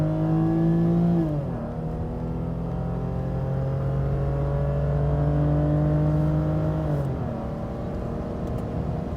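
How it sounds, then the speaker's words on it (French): A 1992 Mercedes 300CE-24 engine revs hard on kick-down as the driver floors it, pitch climbing, dropping at a gear change, then rising again before another shift. "Si on accélère en écrasant la pédale, on a un kick-down et le moteur"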